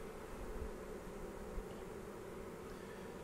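Honey bees buzz around a beekeeper's hand in a backyard apiary in December, a steady low droning hum that stays close and continuous with no talking.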